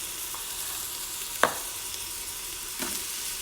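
Small to medium onion sizzling in hot oil inside an Instant Pot, a steady hiss with a couple of soft clunks, close and alone.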